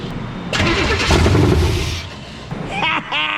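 A 1953 chassis-swapped vehicle's engine cranks on the starter, then catches and roars to life loudly, settling into a rough idle with a few short revs near the end; voices are faintly audible underneath.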